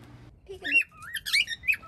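Wild birds call in a short burst of squawks and chirps, a few quick, fairly loud notes close by with no talking.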